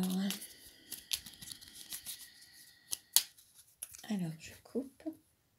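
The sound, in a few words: cutting a deck of tarot cards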